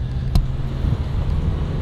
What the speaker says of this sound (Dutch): ik zit nu even bij Dennis in de auto.